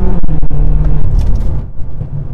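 A 2013 BMW F13 M6 accelerating hard, its engine a loud, close, low rumbling roar that surges and then eases off as the car gains speed.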